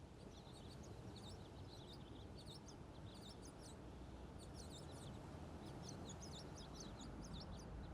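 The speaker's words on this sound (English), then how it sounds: "We hear birds" Birds calling with repeated duck-like quacks and chirps, scattered through a steady wash of ocean waves and low rumble, moderately distant and fairly faint.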